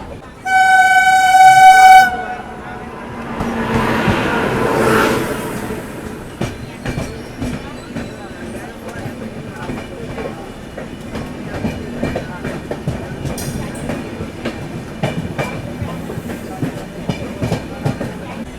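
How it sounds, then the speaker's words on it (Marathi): Bangalore–Hazrat Nizamuddin Rajdhani Express opens with a loud sustained horn blast, then its roar fades into steady rhythmic clickety-clack of wheels over rail joints, heard from inside the last coach in the morning. "बँगलोर हजरत निजामुद्दीन राजधानी एक्सप्रेस"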